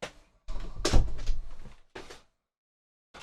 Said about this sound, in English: Door to the studio.